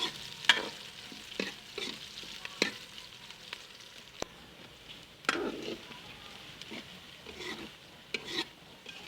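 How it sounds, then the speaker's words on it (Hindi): Onions frying in hot ghee, with repeated scraping stirs over a steady close sizzle and occasional clinks of a spoon against the pan. "घी गर्म हो गया तो प्याज डाल देंगे। प्याज को अच्छी तरह से भून लेना है"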